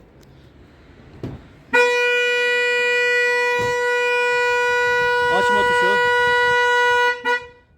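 A loud, steady electronic car alarm tone blares continuously for several seconds from an aftermarket remote-start alarm on an Opel, cutting off abruptly, with brief speech and clicks before and after.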